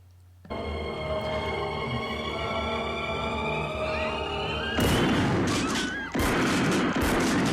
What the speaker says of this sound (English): Uzi 9mm!